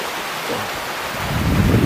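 Water in a forest stream runs steadily as a broad, continuous rush, swelling somewhat louder toward the end with no voices over it.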